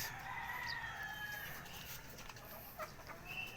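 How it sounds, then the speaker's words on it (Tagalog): Fighting roosters in a rooftop coop crow and cluck faintly in the distance, with a steady background hiss and no talking. "Manukan natin sa rooftop. Ayan sila."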